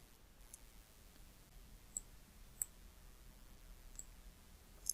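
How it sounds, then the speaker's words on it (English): Several faint, sharp computer mouse clicks, including a right-click, sound at uneven intervals over a quiet room background. "I will right click and say insert."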